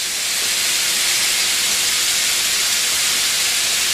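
Onion and garlic cook in olive oil for a fresh tomato sauce, giving a loud, continuous broad hiss close by that stays even and unbroken throughout.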